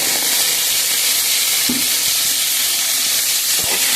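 Sliced onions fry lightly in a pan with a loud, continuous, close-up sizzle and a few faint clicks of stirring.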